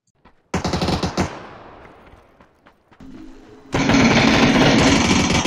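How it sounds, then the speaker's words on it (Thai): Video game gunfire played through a Sound BlasterX G6 sound card; a loud rapid automatic burst, a decaying tail with scattered shots, then another sustained roaring burst of fire. "จะสังเกตว่าเสียงปืนก็ดังดีมากนะก็รู้ทิศทางว่ายิงมาจากไหนนะครับ"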